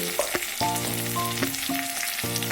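Spices and tomato with salt, turmeric, cumin and coriander powder sizzle in a pan while being sautéed, with steady frying hiss and sharp utensil scrapes and clinks near and loud, no talk.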